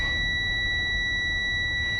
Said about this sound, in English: when you touch the leads, it's going to beep for you. You hear that.